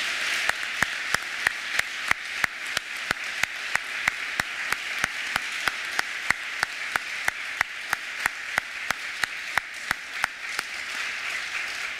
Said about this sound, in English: could we give him another round of applause?